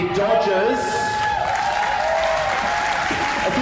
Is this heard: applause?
yes